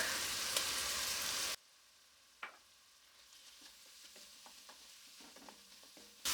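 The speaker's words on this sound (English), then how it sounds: "We're going to saute that just a few minutes until we can start smelling the aroma of that garlic." Vegetables and garlic sautéing in a pan, a loud burst of sizzle at first that drops to a quieter, crackling fry dotted with scattered utensil taps, then swells again at the very end.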